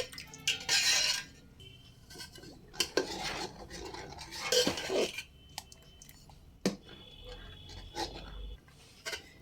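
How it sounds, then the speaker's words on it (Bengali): A spoon stirs rice papad batter in a pot on a gas stove, making intermittent metallic scrapes and clinks against the pot in bursts separated by quiet gaps, close and fairly soft. "এবার এইভাবে অনবরত নাড়তে হবে না হলে কিন্তু নিচে লেগে যাবে"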